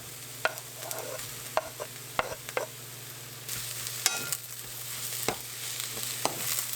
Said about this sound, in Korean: 양파를 넣고 함께 볶아주세요.